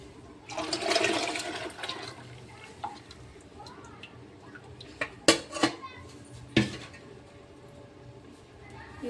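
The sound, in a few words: water being poured into a pot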